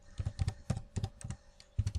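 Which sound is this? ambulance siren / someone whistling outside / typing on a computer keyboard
typing on a computer keyboard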